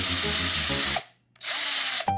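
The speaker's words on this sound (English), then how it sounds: "So he grabbed a drill and added tiny vent holes." Two close bursts of a power drill whining as it drills tiny vent holes in a classroom tank part, the first about a second long, a brief pause, then a second burst that cuts off abruptly.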